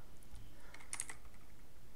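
Keystrokes on a computer keyboard while a command is entered in a Windows administrator command window, a quick cluster of faint clicks around the one-second mark against a quiet background hiss.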